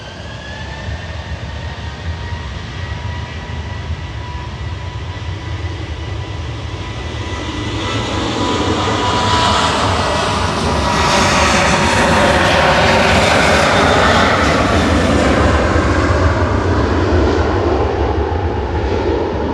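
A Gulf Air airliner in retro livery arrives at Manchester Airport, its broad jet roar swelling louder and nearer over the final seconds with a rising whine and no voices.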